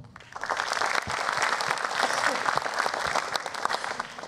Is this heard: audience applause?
yes